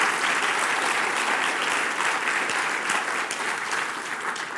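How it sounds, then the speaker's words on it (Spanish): Congregation applause filling a church at the close of a sermon, a steady dense wash of clapping that holds evenly throughout and tapers only slightly at the end. "Den un aplauso al Señor"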